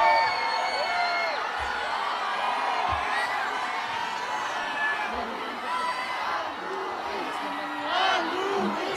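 A large outdoor political rally crowd for the BBM–Sara Duterte UniTeam campaign in Taguig keeps up a steady roar of cheering, whooping and shouting, with swells of louder yells throughout.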